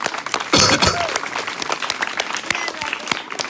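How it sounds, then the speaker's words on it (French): A live audience at a stage hypnosis show claps loudly, with a strong burst near the start and then irregular individual claps and a few voices mixed in. "On l'applaudit bien fort, s'il vous plaît."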